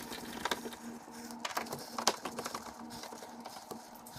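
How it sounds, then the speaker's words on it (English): Screws being taken out of the faceplate of a GE Profile wall oven: faint, close metallic clicks and small clatters arriving in scattered bursts, quiet overall with a faint hum beneath. "Let's go ahead and take these 4 screws out and we will see if we can get the oven loose."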